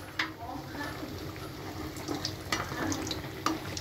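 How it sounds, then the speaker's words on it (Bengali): A Mughlai paratha frying in hot oil, giving a steady low sizzle with faint crackles and a few soft clicks throughout, at moderate level close by. "আমার তেল গরম হয়ে গেছে, এখন আমি একটা মোগলাই দিতেছি।"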